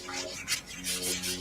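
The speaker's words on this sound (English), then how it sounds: "I'm just gonna nip this bit down on the belt sander just a little bit." A belt sander grinds down a small piece of wood in a steady, close rasping run with a few louder surges, and a faint motor hum underneath.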